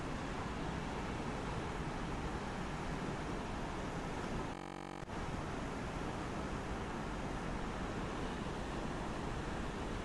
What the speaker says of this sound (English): There's some nice waves out there.